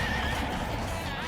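Horse neighing in the Pocket Card Jockey: Ride On! racing video game, a single drawn-out whinny with a clip-clop rhythm beneath, steady and close over a dense, busy game soundtrack.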